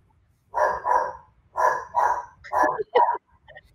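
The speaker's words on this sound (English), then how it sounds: "Your sweet guard dog." Dog barking at someone walking past outside a home, a run of about six loud, close barks in pairs and threes, followed by a faint yip at the end.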